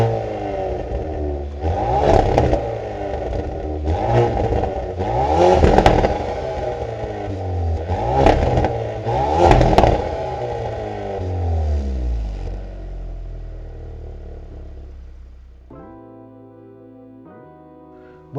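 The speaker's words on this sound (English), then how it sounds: "Let's go ahead and hear how this sounds." Hyundai Veloster N hot hatchback revving loudly through its dual exhaust, several sharp rev blips rising and falling close by, then the engine settles and fades out near the end.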